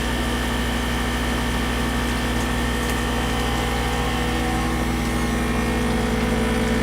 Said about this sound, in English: Hit start, and the sealer will take all the air out.